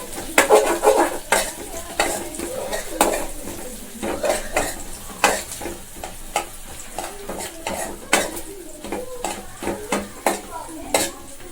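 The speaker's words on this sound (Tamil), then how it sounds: "வெங்காயம் சேர்த்துட்டு இது நல்லா வதக்கிக்கலாம்" Onions are sautéed and stirred in a pan with curry leaves, coriander and ginger-garlic paste. The soft sizzle sits under repeated sharp scrapes and clinks of a spoon against the pan, close and irregular.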